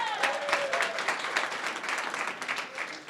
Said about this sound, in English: I just want to give a quick round of applause to Allie